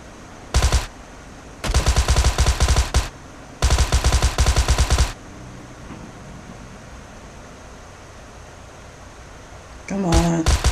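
Automatic gunfire from the video game PUBG Mobile rips out in three bursts, one short and two longer rattling volleys, loud and close, followed by quieter ambient game noise and a brief clattering sound at the end.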